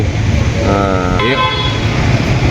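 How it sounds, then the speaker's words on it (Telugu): A car horn honks twice in quick succession, loud and close, over a low rumble of road traffic. "హారన్ కొట్టుకుంటానే పో, ఇంటి వరకు కూడా హారన్ కొట్టుకుంటా పో"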